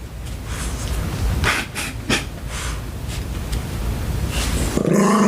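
A dog pants and breathes heavily close to the microphone in a podcast studio, with short bursts of huffing and a low growl, heard alone without talk.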